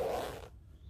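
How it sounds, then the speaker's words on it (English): A zip on a Fjallraven No 8 anorak is pulled down in one quick, close rasping stroke that stops abruptly. "Pull my zips down."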